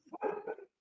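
Dog barking in a brief burst, a few quick yelping barks run together at fairly close range with no other sound around them.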